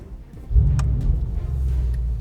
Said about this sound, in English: You know we gotta start it up in sports at least